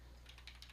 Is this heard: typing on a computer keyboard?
yes